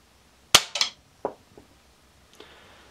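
Diana Mod 6 spring air pistol firing: one sharp, close report, then a few short mechanical clicks and clatters fading away, and a faint ring near the end.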